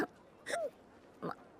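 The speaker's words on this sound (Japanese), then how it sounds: "お酒飲むとしゃっくり出ちゃうんですね。" An anime character hiccupping after drinking alcohol, with a few short, quiet hiccup-like gulps spaced irregularly against near silence.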